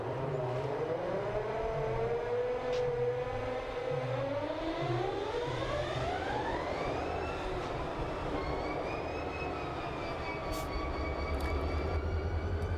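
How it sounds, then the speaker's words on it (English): Diesel freight locomotives in a train simulator game start up together, their engines spooling with rising, sliding whines over a steady low rumble. "auto start all the locos and we'll just listen to them start up now because they sound awesome"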